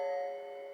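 Synthesizer keytar playing a tubular bells patch: a single struck bell-like tone with bright stacked harmonics, sounding alone and close, decaying slowly over under a second.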